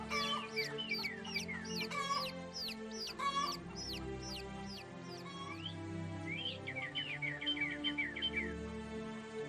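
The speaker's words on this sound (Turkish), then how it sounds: "Sesler olsun tavuk var." Rapid chicken clucking and chirpy bird calls from the video game Animal Rescuer repeat in quick series over a soft steady background, with a bright trill near the end.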